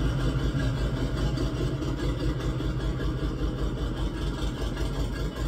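A Chevrolet Camaro engine idling steadily, a low continuous rumble with faint clatter, close and with no talk over it.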